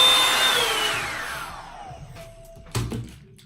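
A Revlon One Step hair dryer brush blows with a loud airy whir that winds down and fades away, followed by a short thump near the end.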